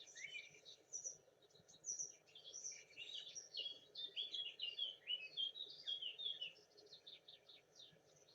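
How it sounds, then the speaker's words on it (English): Several birds sing and chirp continuously outdoors, a busy chorus of high, overlapping tweets and trills at moderate distance, with a faint low hum of insects or ambient noise beneath. "Listen to the birds as they sing and as they speak."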